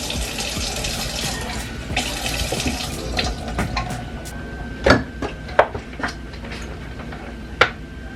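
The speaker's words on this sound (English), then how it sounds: "And I just add a little water to it." Water runs steadily from a kitchen tap into a pan during home cooking, a continuous close splash broken by a few sharp clinks of cookware, with no talking.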